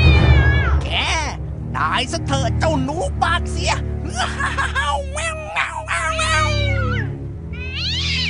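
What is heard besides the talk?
cat meowing, cartoon cat lunging at a mouse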